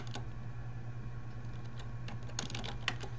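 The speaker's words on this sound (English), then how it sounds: "I'm going to go in here and just type in post-traumatic" A computer keyboard clicks as a search term is typed, a quick run of light keystrokes in irregular bursts over a low steady hum, close and fairly quiet with no talking.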